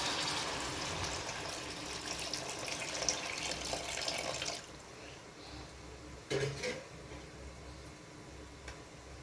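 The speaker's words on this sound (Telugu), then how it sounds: "ఇప్పుడు ఇందులోకి మనము తీసి పెట్టుకున్న చింతపండు పులుసు పోసేయాలి" Tamarind extract poured into a pan of bomme fish curry, a steady close splashing pour that stops partway, followed by a few faint clinks and quiet kitchen sounds.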